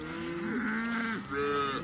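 Cattle in a mob-grazed paddock let out two long, drawn-out moos, close and loud, with a short break between them.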